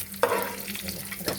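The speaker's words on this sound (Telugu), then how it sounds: "జీడిపప్పు వేగిపోయింది, తీసేసుకుంటా." Cashews frying in hot oil, a close crackling sizzle with a stirring scrape partway through, brief and without talk.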